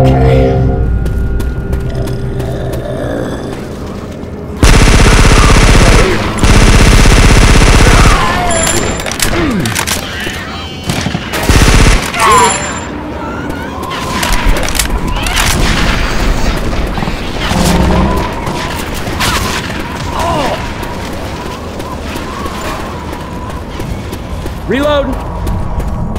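Rifle gunfire rings out while zombies are shot in a video game: loud bursts of rapid shots and booms, with mechanical reload clicks, under excited talk from players.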